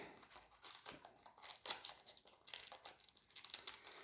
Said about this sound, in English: it looks like I'm gonna have to use my scissors because that glue is really stuck on really good